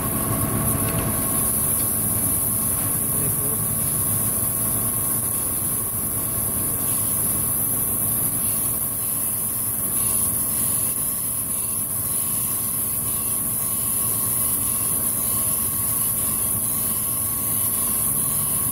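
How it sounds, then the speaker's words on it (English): A camshaft for a Cummins 5.9 engine is ground on a grinding machine, giving a continuous steady whine and hiss over a low mechanical hum that holds evenly loud throughout. "Grinding it down"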